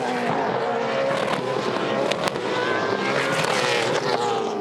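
A Holden V8 Supercar, number 888, racing at Sandown in the 2014 Sandown 500, with a loud, steady engine roar throughout as it passes close by.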